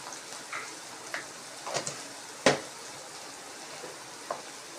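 Onions softening in a pan for Maggi noodles, a faint, low sizzle with occasional soft ticks and one sharper knock of a utensil, quiet and without talking.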